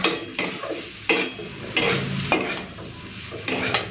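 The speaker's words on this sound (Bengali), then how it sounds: "ওই আলু কুন্দরির সাথে একটুখানি পোস্তটাকে ভেজে নিচ্ছি" Poppy seed paste frying with potatoes and ivy gourd in a pan, a close sizzle broken by regular metal spatula knocks and scrapes against the pan every half second or so.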